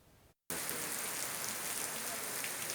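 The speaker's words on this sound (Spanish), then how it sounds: "La lluvia volvió a inundar Barranquilla aquella mañana del 31 de julio de 2018." Heavy rain pours on a surface during a flooding morning in Barranquilla, a dense steady hiss that cuts in after a brief silent gap and stays loud and unbroken to the end.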